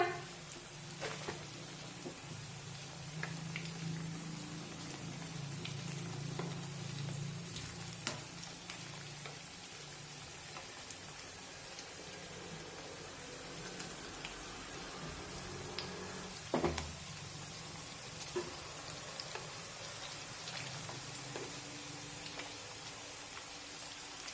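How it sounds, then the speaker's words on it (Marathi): Cabbage cutlets fry in oil in a pan over a medium flame with a steady, even hiss and crackle, close and continuous, with a few faint clicks and one brief knock partway through. "आता अशाच पद्धतीने कटलेटची दुसरी बाजू सुद्धा तळून घेऊया"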